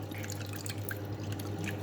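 Water poured in small amounts onto tamarind preserve while cooking fish paksiw in a kitchen, heard as light splashes and drips over a steady low hum, close and fairly quiet.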